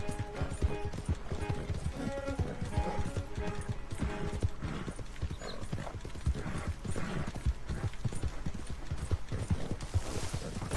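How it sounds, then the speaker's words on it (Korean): Horse hooves galloping in Red Dead Redemption 2, a rapid, continuous clip-clop of several strides with occasional whinnies, close and prominent throughout with no talking. "말 타는 게임 진짜 말만 타고 있죠"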